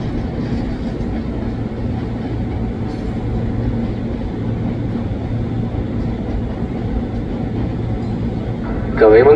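Electric KRL Commuter Line train at Bogor station, a steady low rumble and drone of the railcars running throughout, with a brief louder tonal sound near the end.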